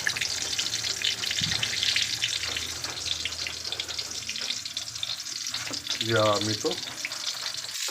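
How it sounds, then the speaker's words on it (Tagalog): Eggplant omelette, tortang talong, frying in a pan: a steady oil sizzle runs throughout with a few stirring clanks, close and fairly loud, and a brief spoken remark near the end. "Ayan, pinipirito na natin siya."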